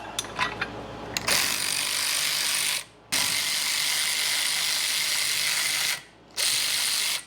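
Ratchet wrench clicking steadily on the rear brake caliper of a 1978 Silver Anniversary Corvette, a close, continuous rapid ratcheting with two short pauses, no talk.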